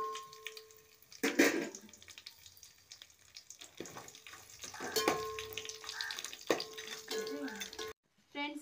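Spices sizzle in hot ghee and oil in a bowl on a stove, a steady soft crackling hiss with stirring clinks and scrapes, fairly quiet, while someone talks over it.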